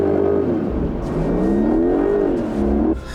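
Electric Porsche Cayenne accelerating on a track, a close, rising and falling electric motor whine with road and wind noise, ending abruptly near the end.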